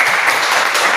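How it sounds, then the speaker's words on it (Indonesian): A room full of people applauds loudly, dense steady clapping for a brief moment. "Ya, berikan aplaus untuk."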